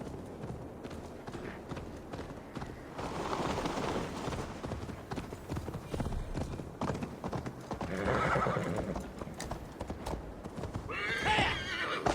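Horse hooves clip-clopping in Assassin's Creed Valhalla, a steady rhythmic trot of hoofbeats with occasional neighs and whinnies, continuous and fairly close throughout.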